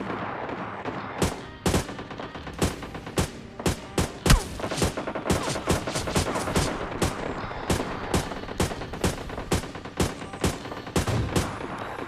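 Rapid SMG gunfire in PUBG Mobile Lite, with short loud bursts and single shots repeating irregularly across the whole stretch over steady game background noise.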